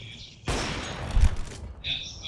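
A short burst of gunfire in Counter-Strike: Global Offensive, loud and close, with a commentator's voice before and after it.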